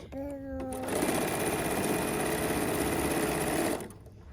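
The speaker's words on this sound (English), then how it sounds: "And I will go ahead and stitch all 3 rows together." A sewing machine stitches three quilt rows together in one steady, continuous whir lasting about three seconds, beginning after a brief moment of talk and stopping abruptly near the end.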